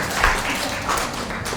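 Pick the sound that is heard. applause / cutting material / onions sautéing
applause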